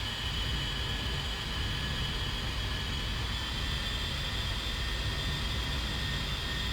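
Jet engines of an A-10C Warthog in the DCS flight simulator during a landing approach, a steady, loud broadband roar with a faint high whine, continuous throughout and without voices.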